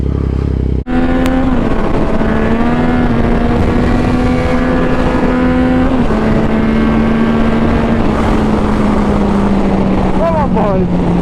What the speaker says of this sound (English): start my moped up